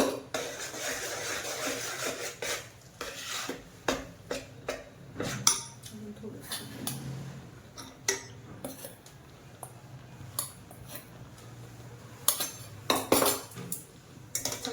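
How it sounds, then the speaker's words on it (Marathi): Rice flour is stirred into boiling water in a pot, heard as repeated clanks and scrapes of a metal spoon against the vessel in uneven bursts, with a voice talking at moderate level. "मिक्स करून घ्यायचं एक वाफ येऊन द्यायची चांगलं मिक्स करायचं"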